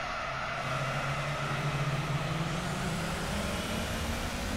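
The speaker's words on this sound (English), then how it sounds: "All the way up the revs with that turbocharger screaming away." A turbocharged car engine in Gran Turismo 4 revs upward under load, a steady rising drone with a whistling turbo tone over tire and road noise, continuous and moderately loud.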